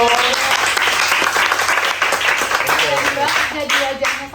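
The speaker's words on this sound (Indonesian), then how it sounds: "Tepuk tangan dulu dong." An audience at a school show claps hands together, loud steady applause with voices and cheering mixed in, fading near the end.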